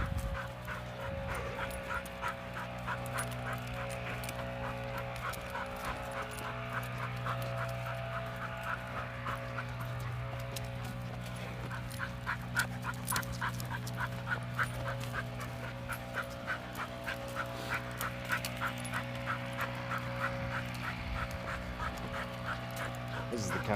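A dog pants heavily and steadily on an outdoor walk, the rapid rhythmic breaths loud and close throughout, with a person talking intermittently over it.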